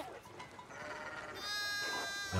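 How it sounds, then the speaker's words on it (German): Sheep bleating in the medieval-village video game Pentiment, a couple of wavering nasal baa calls over quiet ambient background, fairly soft and close. "Also hier sind Schafe."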